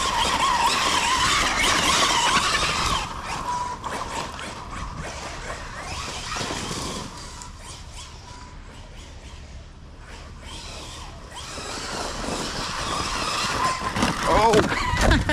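A Losi Super Baja Rey 2.0 RC truck drifting in sand on open property, its motor whining and tires churning loose sand, loud at first, easing off in the middle and then rising again, with a person talking over it.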